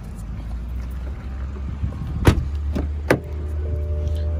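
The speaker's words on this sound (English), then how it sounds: "So it's an electric tailgate." Electric tailgate of a 2016 BMW 2 Series Active Tourer 218i opening outdoors: a steady low motor hum with a couple of sharp mechanical clicks and thuds partway through, then a faint whirring tone as it moves.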